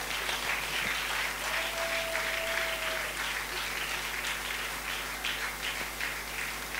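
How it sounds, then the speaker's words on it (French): A church congregation applauding to acclaim the Lord during a French worship service: steady, dense clapping that holds at an even level throughout, fairly close, with no voices standing out. "Acclamons le Seigneur"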